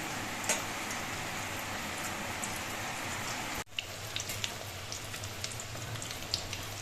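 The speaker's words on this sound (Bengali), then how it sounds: "বাইরে অনেক দূরে বৃষ্টি হচ্ছে" Steady rain falls outside some distance away, a soft continuous hiss with scattered drip ticks, briefly cutting out about halfway through before resuming.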